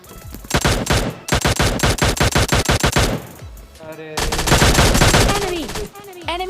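Loud automatic gunfire from the mobile game PUBG Mobile Lite. Rapid bursts of repeated shots open the clip, followed by a denser stretch of firing and in-game effects, all close and prominent.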